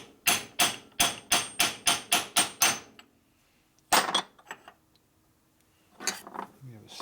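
A brass hammer strikes Harley panhead motor parts from a 1961 FL 74ci engine: nine quick, evenly spaced metallic blows, then a pause, a heavier hit with a few lighter taps, and a final short cluster, close and sharp.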